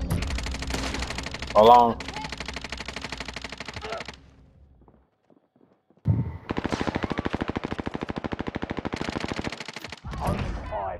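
Automatic gunfire in a shooter video game rings out in long, rapid bursts close by, with a short silent gap between bursts, a brief voice speaking near the start and another at the end.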